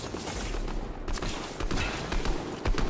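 Gunfire in the battle royale game Fortnite: rapid bursts of shots and in-game effects in a busy, continuous stream, moderately loud throughout without clear speech.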